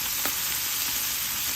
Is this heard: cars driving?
no